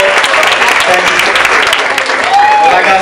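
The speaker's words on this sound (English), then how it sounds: "Everybody give yourselves a round of applause" Loud, dense audience applause at a hair show fills the whole stretch without pause, with a brief whistle-like tone rising through the clapping near the end.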